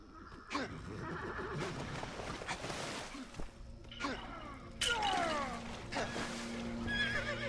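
Horse neighing in the Lego Lord of the Rings video game, several whinnies with a loud one near the end, set against busy game sounds and music.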